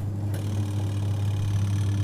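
A Sharp washing machine motor hums steadily at close range, a continuous low drone with a faint higher whine, running alone without interruption.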